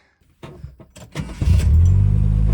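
An abandoned Mercury Capri Turbo, standing for 23 years, cranks with a few clicks and turning attempts before the engine catches and settles into a loud, steady idle, close by.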